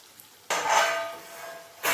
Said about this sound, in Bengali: পাঁচ মিনিট মতো হয়ে গেছে ঢাকাটা খুলে নিলাম